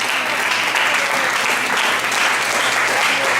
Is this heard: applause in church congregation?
yes